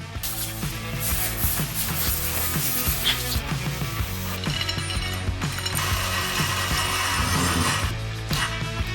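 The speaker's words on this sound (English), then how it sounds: "Just slide it up in there and spin it to see if it locks up with screws in these." A bench vise slid into its mount and spun on its screw, giving a steady run of close, rapid metallic ratcheting clicks and grinding mechanical rattles for the whole stretch, with no voices.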